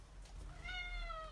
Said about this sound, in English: we've got a cat in the room